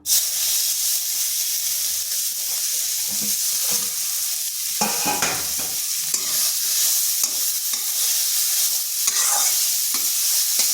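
Grated carrot frying in ghee in a hot kadai, stirred steadily: a continuous close sizzle with scraping stir strokes throughout, no voices.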